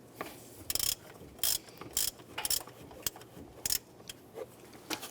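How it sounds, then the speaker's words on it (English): A 15mm socket on a ratchet clicks in repeated bursts while loosening a tensioner bolt on a 2015-2020 Cadillac Escalade engine, crisp close ratcheting strokes separated by brief pauses, with no talking. "Using a 15mm socket and ratchet, we're going to loosen the bolt on our tensioner."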